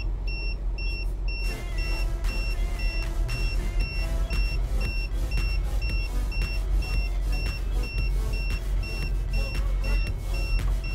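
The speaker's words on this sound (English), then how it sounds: "And the tire pressure sensor goes off right about now." Tire pressure sensor alarm in an RV, a regular series of evenly spaced electronic beeps repeating for several seconds over a steady low engine rumble, no voices.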